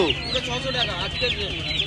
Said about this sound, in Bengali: এটা কি মুরগি আছে? সিল্কি মুরগি আছে।